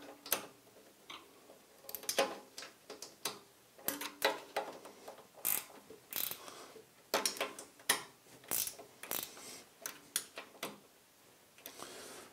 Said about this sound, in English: So having done that, I'm going to tighten these.